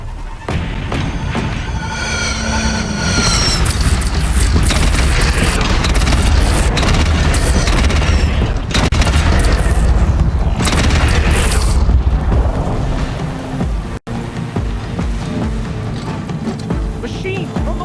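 A cannon firing in the Horizon Zero Dawn video game, heavy booms rolling out one after another in a dense, loud battle mix, with shouting voices and other game sounds running underneath.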